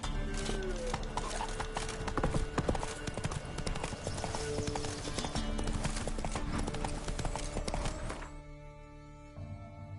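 Roach the horse gallops in The Witcher 3, a steady rush of hoofbeats with game music underneath, then the hooves thin out and slow near the end.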